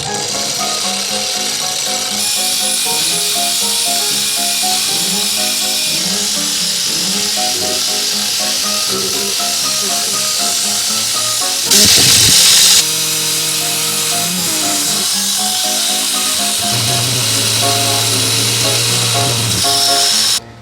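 A milling machine cuts an old gasket off a bellows part clamped in a vise, a steady whirring grind with changing pitch, a sharp hiss burst midway and squealing tones later; no talking.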